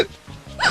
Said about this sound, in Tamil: அது என்ன விக்கல் சத்தம் வித்தியாசமா டபுளா கேக்குது?